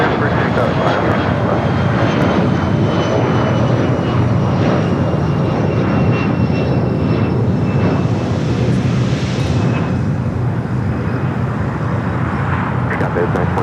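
An airplane taking off from runway 25 Right at Los Angeles International Airport, heard as a loud, steady jet roar that fills the whole stretch and swells slightly midway.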